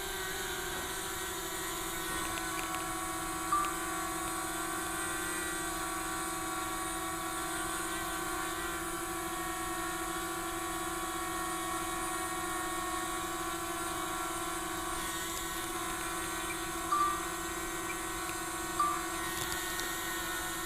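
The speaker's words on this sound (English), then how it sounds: "The drone is working as it should be, hovering relatively well." A DJI Mavic Mini drone hovers in woods, giving a steady, continuous whine of small propellers that holds level and unbroken throughout, with no talking.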